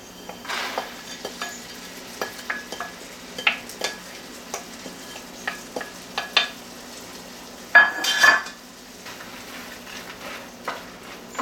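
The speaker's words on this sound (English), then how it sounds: "We're just going to let this froth and thicken up just a little bit more" Maple caramel with pecans frothing and thickening in a pan, giving a soft bubbling sizzle broken by intermittent stirring scrapes and clinks, with one louder clatter midway.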